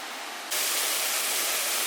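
Kovai Kutralam waterfall in full flow, a steady broadband roar of falling water that swells abruptly louder partway through and then holds constant, with no voices.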